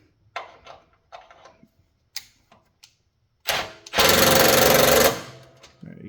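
Bolt tightening on a John Deere mower: scattered clicks and ratcheting knocks, followed by a loud, buzzing power-tool burst lasting about a second, then a short tail of quieter taps, no talk.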